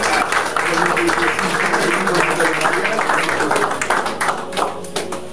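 A church congregation claps and cheers in celebration of a couple's 30th wedding anniversary in Liège, Belgium: a dense, steady wash of hands with voices mixed in, holding loud throughout before easing slightly near the end.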